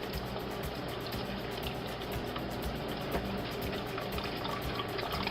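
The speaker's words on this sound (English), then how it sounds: "Now in goes our water," Water poured into a mixing bowl of sourdough starter, a continuous close splashing stream that runs the whole time at even loudness.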